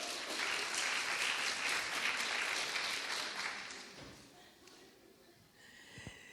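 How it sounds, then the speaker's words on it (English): Applause from an audience at a talk, a dense clapping burst that holds for about four seconds and then fades out, followed by quiet room sound and a faint thump. "Nice applause for Vicky."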